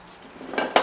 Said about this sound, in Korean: 밥과 깍두기는 비닐에 담겨와서 접시에 옮겨 담아야 할 것 같다.